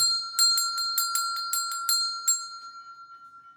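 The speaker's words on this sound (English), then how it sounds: "We're going to ring the bell." A small bell is struck repeatedly in a quick run of about ten bright metallic rings, then left to ring out and fade alone.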